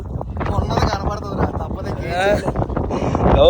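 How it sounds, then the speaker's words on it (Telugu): Strong wind gusting outdoors in cold weather, a steady broadband rush under continuous nearby talking. "ఫుల్ గాలి వచ్చేస్తుంది"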